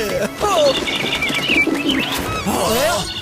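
Pigeons coo loudly and close by, with soft chirps mixed in and a few overlapping calls.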